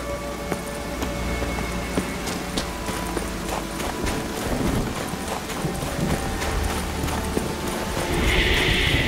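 Hooves of Roach, Geralt's horse in The Witcher 3, pound in a rapid clip-clop gallop across open ground in Skellige, steady and close, with ambient game sound beneath and a brief swell near the end.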